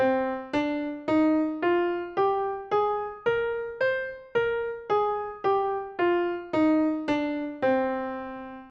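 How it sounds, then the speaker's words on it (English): A minor scale played note by note, about fifteen evenly timed struck tones rising then falling, each sustaining and fading before the next, clean and solo. "Minor scales sound like this."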